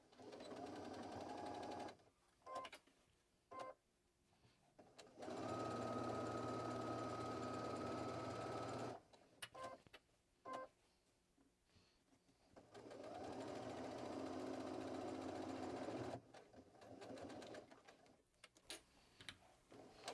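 Sewing machine stitching a double fabric pouch, running in steady fast whirring bursts of several seconds each, separated by quieter pauses with clicks and handling of the fabric.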